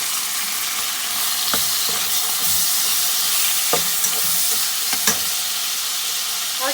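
Tomatoes and green chilies sizzling and frying in a pan with ginger-garlic paste while being stirred, steady hiss with several sharp utensil clacks, for chicken yakhni pulao.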